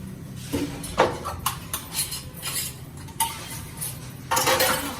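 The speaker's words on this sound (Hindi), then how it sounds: "ये 2-4 बर्तन है, मैं वॉश कर लूं" A few dishes are washed in a home kitchen: repeated clinks and clatters of metal utensils and pots knocking together, close and irregular, with no talking.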